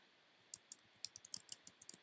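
Computer keyboard typing in a quiet room while entering a field name in Microsoft Access 2019 design view: a dozen crisp, close keystroke clicks in an uneven rhythm, with no voice over them.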